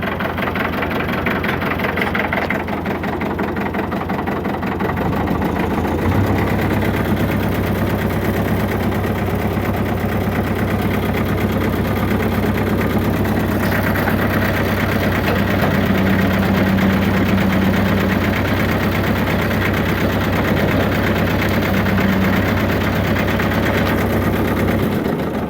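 An International 434 diesel tractor engine starts and runs at idle, a loud, steady low chugging drone with a faint knock that holds unbroken throughout.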